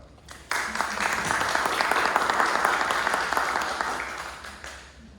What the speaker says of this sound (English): please give a welcome applause to Pamela